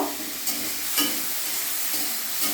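Ridge gourd pieces coated in salt and turmeric fry in a little oil, giving a steady, close, hissing sizzle with small crackles and no talk.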